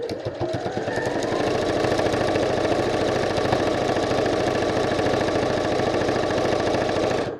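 A domestic sewing machine runs at high speed while stitching a fabric draught excluder, giving a loud, dense, steady mechanical whir with rapid repetitive needle clatter that holds constant for several seconds before stopping abruptly.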